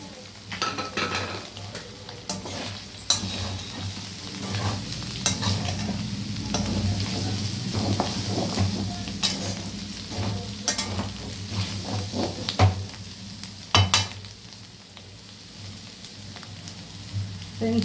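Curry sizzles in a pan after coriander and curry leaves go in, with a constant close frying hiss under repeated stirring scrapes and occasional utensil clinks against the pot.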